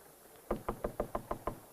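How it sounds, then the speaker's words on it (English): Seven quick, evenly spaced knocks on a door, sharp and fairly close against a quiet hiss of background noise. "Ella May, open the door."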